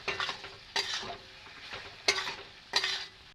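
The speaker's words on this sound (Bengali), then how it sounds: "আলু গাদে একটু নাড়াচাড়া করে নেব।" Spatula stirring fried potatoes with masala in a pan for a potato besan bara dish, four distinct scraping strokes over a soft steady sizzle, close and fairly quiet, no talking.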